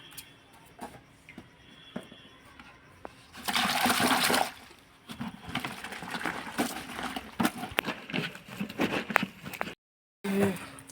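Clothes go into hot water for soaking at home: a loud, rushing splash of water lasts about two seconds, then fainter sloshing, dripping and handling noises follow before a brief silence.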